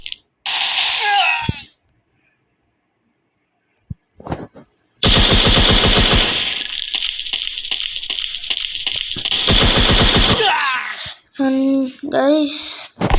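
Gunfire in the mobile shooter FPS Online Strike comes as loud bursts of rapid automatic fire and single shots, separated by pauses, with some game sound effects between them.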